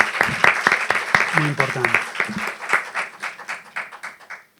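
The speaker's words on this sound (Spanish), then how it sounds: "les pido un aplauso para el equipo" An audience at a welcome address for an arts conference applauds the team, scattered claps building and then fading, with a short spoken phrase partway through.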